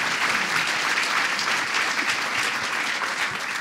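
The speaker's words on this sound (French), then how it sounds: "Blanche Gardin, qu'on peut applaudir bien fort et qu'on embrasse." A television studio audience at a French comedy show applauds a comedian, a dense, steady wash of many hands clapping loudly and evenly throughout with no voices.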